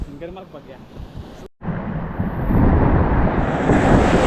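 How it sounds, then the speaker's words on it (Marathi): Sea waves break on a monsoon-season shoreline as the tide rises. A voice talks briefly at first, then after a short cut a loud, continuous roar of surf and wind takes over and swells steadily. "बघा उ लाट पण येतात आता तर लोटू हाय चालू आहे ना भरती चालू आहे"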